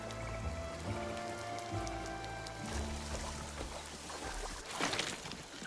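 Rain in the video game RuneScape Dragonwilds, falling as a dense, steady patter on surfaces, continuous and fairly close, with a soft low tonal game backdrop and no talk.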